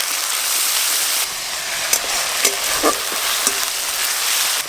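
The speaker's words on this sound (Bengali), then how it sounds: "আদা রসুন আর পেঁয়াজ বাটা একসঙ্গে ভালো করে ভাজা ভাজা করে নিয়েছি।" Ginger, garlic and onion paste fry in a pan with a dense, steady sizzle, and occasional short scrapes from stirring, close and fairly loud, with no talking.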